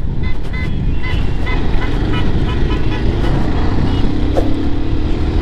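Dense Indian street traffic roars around a car as a Suzuki drives past, with a steady loud engine-and-road rumble, scattered horn toots and wind noise.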